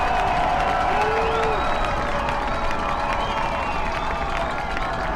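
A dense football crowd roars and cheers on its feet at a high school game, with a loud, unbroken wash of voices and applause filling the stands.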